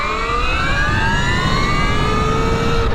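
A KTM Freeride E-XC electric dirt bike pulls hard under acceleration, its motor whine rising steadily in pitch as it gains speed, loud and close over a constant rush of wind and road noise, no voices.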